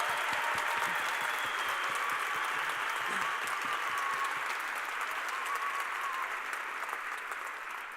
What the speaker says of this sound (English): if we could all give them one more round of applause.